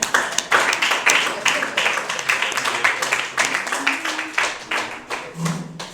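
A church congregation at a Sunday service in Treichville claps together in a steady, rhythmic beat, loud and close, with applause swelling beneath a voice speaking over it.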